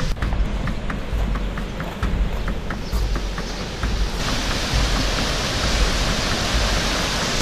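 A constant roaring rush of falling water at Düden Waterfalls in Antalya, Turkey, fills the scene, with faint rhythmic footsteps or clopping underneath.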